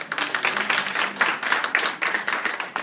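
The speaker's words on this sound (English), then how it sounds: "So we can give them a round of applause again." Audience at a foster care reform panel event applauding the panelists, a steady burst of close, dense clapping for about three seconds with no talk over it.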